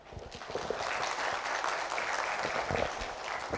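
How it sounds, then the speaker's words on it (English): A round of applause from an audience at an academic gathering, a dense, even wash of clapping from many hands that holds steady from start to finish. "perhaps you can give yourself a warm round of applause"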